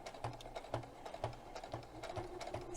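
A sewing machine stitches a fabric potholder in quick, even bursts, its needle clattering in a steady mechanical rhythm with several short pauses and restarts, close and fairly loud with no voices.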